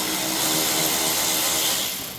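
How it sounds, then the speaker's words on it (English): An electric ratchet whirs steadily on a 7mm bolt while fitting an LED license plate light on a 2017 GMC Sierra 2500HD, a continuous close motor drone lasting about two seconds and tapering off. "that's going to let me get it with the electric ratchet"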